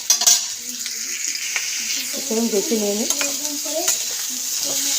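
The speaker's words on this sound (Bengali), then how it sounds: "তারপরে এইটা একটু ভাজা হোক" Kohlrabi vegetables frying in a pan for a soyabean curry, a steady sizzle with occasional stirring scrapes throughout, while a voice speaks briefly.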